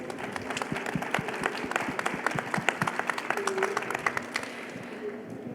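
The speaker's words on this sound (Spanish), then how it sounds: "así que me acompañan a aplaudir al equipo que organizó Festivo antes de empezar este panel" Audience at a GovTech event panel applauding the organizing team, distinct claps building into a fuller round of applause that fades toward the end, with a voice faintly underneath.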